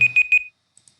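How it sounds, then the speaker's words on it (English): A 30-minute timer alarm gives three quick bright beeps in a row and then stops, leaving near silence. "That's the 30-minute timer."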